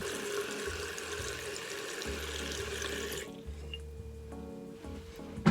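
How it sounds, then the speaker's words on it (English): A bathroom tap runs steadily while hands are washed beneath it, a continuous close splash that stops partway through, leaving a quiet room with faint drips and small clinks. "I'm gonna wash my hands first."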